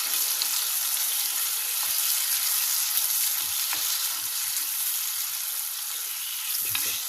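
Chicken livers sizzling in hot oil for a Chinese-style dish, a dense, steady frying hiss with light stirring scrapes, close and continuous with no talk.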